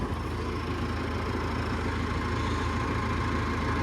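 A 6150 tractor engine idles while warming up before servicing, giving a steady, low, even rumble that stays fairly quiet and unchanging throughout.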